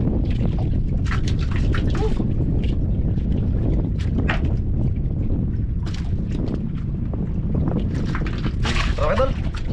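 Strong wind gusting over a small fishing boat at sea, a constant buffeting roar with microphone wind noise, while voices talk intermittently over it.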